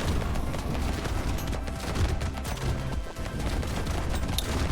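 Shotguns fire nonstop in the Brotato arcade game, with dense, overlapping blasts and impacts forming a loud, continuous barrage and no clear gaps between shots.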